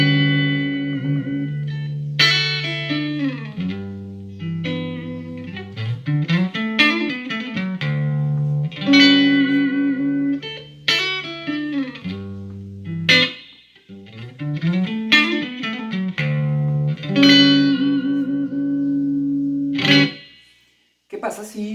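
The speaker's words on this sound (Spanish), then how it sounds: "este es el sonido de mi Stratocaster con este amplificador Marshall. Estoy en el canal limpio, en el canal clean" Fender Stratocaster played through a Marshall amplifier on its clean channel, with bright chords and single-note phrases in bursts and short pauses, loud and close, with no talking.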